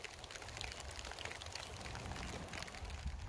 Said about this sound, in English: It's starting to rain a little tiny bit.